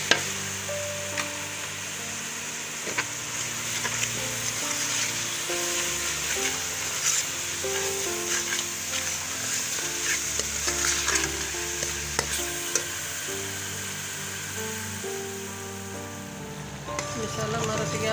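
Spices frying and being stirred in a pan while a chicken and green peas curry is cooked, a steady sizzle running throughout with a continuous musical tone playing over it.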